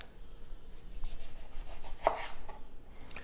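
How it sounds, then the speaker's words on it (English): A knife slicing through a lemon on a cutting board, heard as a few soft, scattered cuts with one sharper chop near the middle, close and fairly quiet, with no talking. "I'm actually gonna cut up some lemon to cook with the salmon."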